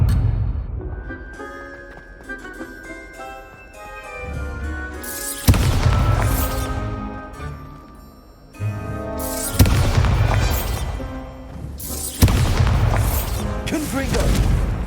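Bombarda explosion spells cast in the video game Hogwarts Legacy, several loud booming blasts bursting out at intervals over game music and effects.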